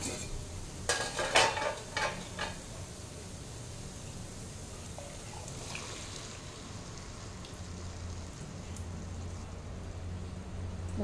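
Chickpeas are stirred into cooked masala in a pan with a few clattering spoon knocks and scrapes at the start, then a soft, steady low sizzle continues for several seconds afterward, nearby and fairly quiet.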